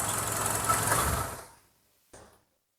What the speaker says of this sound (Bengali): সো আমরা ইঞ্জিনের সাউন্ডটা আপনাদেরকে কাছ থেকে একটু শোনাবো